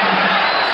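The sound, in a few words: boxing crowd cheering during fight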